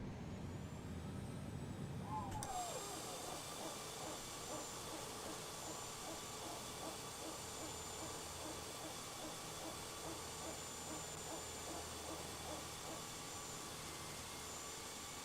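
A simulated Airbus A330-300 jet engine spins up in a flight simulator after a brief rumble, settling into a steady whining hiss with a faint rhythmic pulsing underneath.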